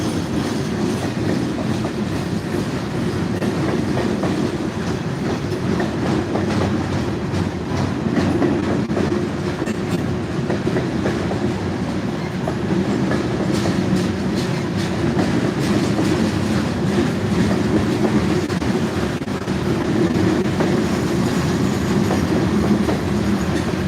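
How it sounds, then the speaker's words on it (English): A long asphalt freight train rolls past close by on steel rails, a steady loud rumble with continuous clacking wheel noise throughout. "That is one of them asphalt trains."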